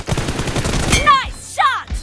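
Rapid gunfire in a team-based shooter video game, a quick burst of shots followed by whooshing, chirping game effects and a later thud.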